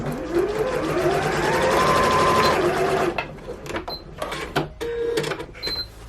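A Janome DKS30 sewing machine runs a normal stitch with a steady loud motor whir that rises in pitch, then stops and gives way to clicks and short mechanical clatters.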